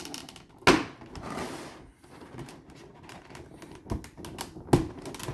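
A figure being popped free of its plastic blister packaging gives a few sharp, close cracks and snaps, the loudest near the start and end, with crinkling plastic handling in between.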